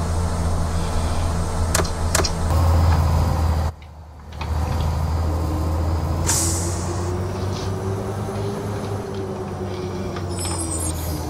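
An IC CE 300 bus in a video game lets out a loud air brake hiss over a steady engine rumble. A brief dropout follows, then the engine drones on with a faint rising tone.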